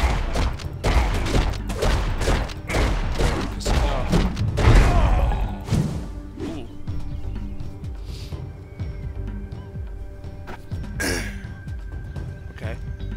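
In the zombie game Dead Island Epidemic, rapid bursts of gunfire and heavy thuds hit loud and close in a quick series, then thin out to scattered shots, with a voice talking intermittently.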